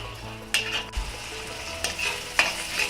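Ginger, garlic and chili paste with spices fry in an iron kadai, a close, continuous sizzle punctuated by several distinct scraping stirs.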